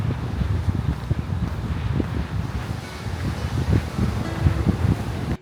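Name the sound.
strong wind and sea waves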